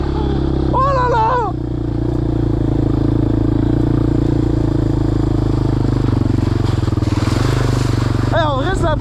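A quad bike engine drones steadily through a ride, a loud continuous rumble with clattering, while someone talks and exclaims over it near the start and end.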